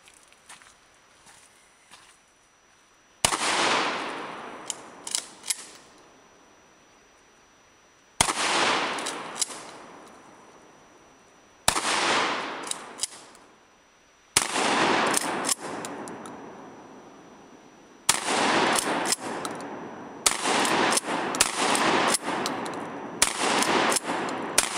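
Bursts of gunfire from a last-resort defense weapon fired at a tree stump outdoors, five loud sustained volleys of rapid shots separated by short pauses, with no talk.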